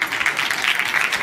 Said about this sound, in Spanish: un aplauso de todos para Analía Tarasewicz